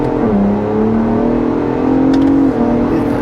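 A 2023 Ford Bronco Raptor in manual mode, in second gear, accelerates hard: a loud, steady engine roar that climbs in pitch, dips briefly at a shift, then keeps pulling, heard close from inside with no talk.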